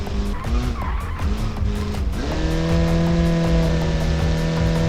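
A car drifts in the BeamNG driving game, a Soviet touge racing build, its tires skidding and squealing loudly as a steady engine note holds underneath, continuous and close.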